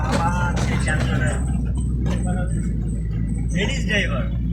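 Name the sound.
city traffic jam in Dhaka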